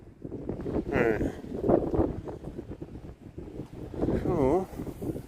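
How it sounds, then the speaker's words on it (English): Gusting wind buffets the microphone with low rumbling bursts while a person talks nearby. "Kind of windy out."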